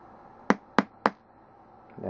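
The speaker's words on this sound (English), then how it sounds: "and then just hammer away." Three sharp metallic taps from a pin tool kit driving a tiny pin out of a watch band link, evenly spaced and close, with quiet between them and a voice starting at the end.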